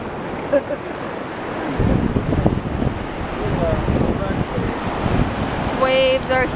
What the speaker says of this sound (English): Waves are huge right here.